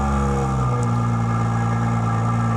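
A BMW 340i with an M Performance exhaust idles with a deep, loud exhaust rumble, steady and close, with a brief low blip early on before settling into a constant drone.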